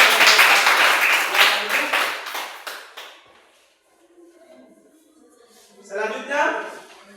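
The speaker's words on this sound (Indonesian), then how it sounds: "mari kita beri aplaus yang meriah" A classroom audience applauds after a question session in a teaching performance test, with dense, loud clapping for about three seconds that fades away, followed by quieter speaking voices.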